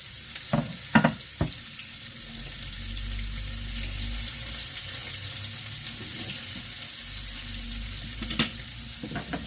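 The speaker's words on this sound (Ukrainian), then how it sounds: "Викладаю на сковорідку" A steady crackling sizzle of onion frying in a pan, with a few sharp clinks of utensils near the start and end, close by with no talk.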